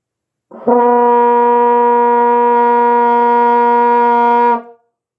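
A single sustained F on a valved brass instrument, first valve pressed, held steady and loud for about four seconds, alone, then fading out.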